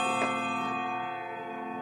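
An Odo 36 pendulum clock strikes once, then its soft, clear chime rings on and slowly fades, close and steady with no voices over it.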